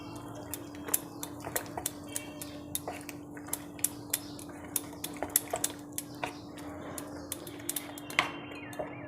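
Gram flour batter being whisked with water in a bowl for khaman dhokla, giving steady soft wet stirring with repeated sharp clinks of the utensil against the bowl, close and alone.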